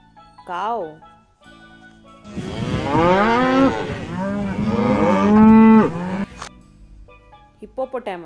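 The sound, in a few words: cow mooing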